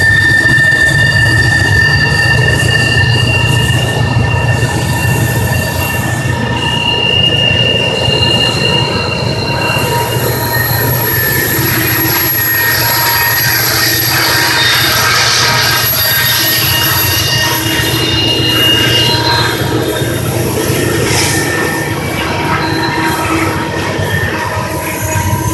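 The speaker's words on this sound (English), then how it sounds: "you can see the whole train going around the curve" A westbound intermodal freight train rounds a curve, its wheels keening in long, piercing squeals over a steady, heavy rumble of rolling cars that continues throughout.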